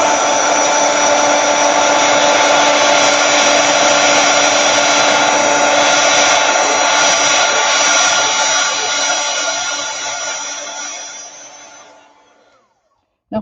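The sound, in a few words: heat gun drying paint on ceramic bisque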